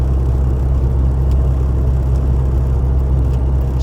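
A converted Mk3 Ford Escort RS with a 2-litre forged engine and Simpson exhaust runs steadily, a deep, constant droning engine note heard close and loud without any talking.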